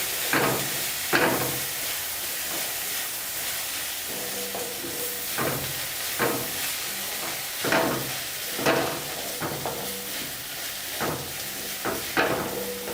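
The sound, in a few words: sautéing ginger paste with eggs in a pan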